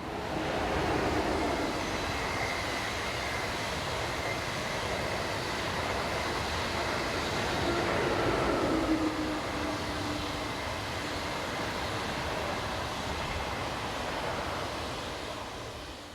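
An ICE2 high-speed train set, a single power car with seven passenger coaches, rushes past with a sustained broad roar that holds steady and swells slightly midway before easing.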